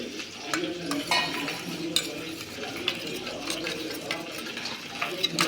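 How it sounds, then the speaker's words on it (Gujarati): A spoon stirs a spice paste with garam masala for drumstick curry, scraping and clinking against a bowl in quick irregular strokes, close and moderately loud. "બધું જ મિક્સ કરીને હલાવી દઈશું."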